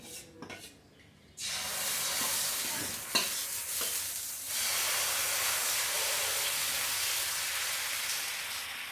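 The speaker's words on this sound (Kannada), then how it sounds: "ಈಗ ನಾನು ಕೊನೆಯ ದೋಸೆಯನ್ನು ಹಾಕ್ಕೊಳ್ತಾ ಇದ್ದೇನೆ." Raw jackfruit dosa batter is poured onto a hot pan and sizzles as a loud, steady hiss, close by, continuing unbroken after a brief quieter start, with no talking.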